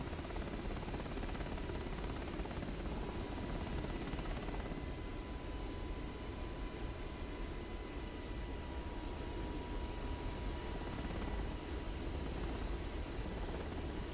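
A Blackhawk helicopter in a flight simulator game drones on in a constant, broadband rotor and engine roar that holds steady and loud throughout, with no talking over it.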